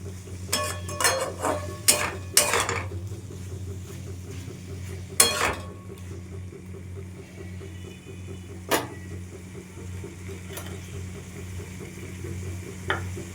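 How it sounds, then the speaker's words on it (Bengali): Cooked vegetables with a spice paste are stirred slowly in a pan, with scattered scraping and clinking strokes of the utensil over a steady low hum, some quieter pauses between strokes. "চলো এবার ধীরে ধীরে নাড়তে থাকি সবজি তো সব সেদ্ধ হয়ে গেছে এবার একটু কষাতে হবে"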